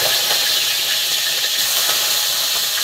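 Garlic sizzles and sputters in hot oil in a pan, a loud continuous hiss that stays even and unbroken from start to finish, with no talking.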